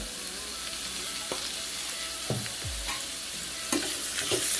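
Carrot poriyal sautéing in a pan, with a steady sizzle of frying under a spoon scraping and stirring in a few distinct strokes, close and moderately loud.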